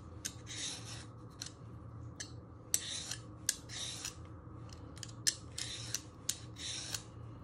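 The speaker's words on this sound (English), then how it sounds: "with the peeler, you want to peel all the skin off. Just keep moving it round." A hand peeler scrapes the skin off a winter vegetable for soup, giving repeated short rasping strokes with sharp clicky peaks in an uneven rhythm, close and alone over a low steady room hum.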